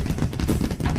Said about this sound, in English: It's actually fireworks.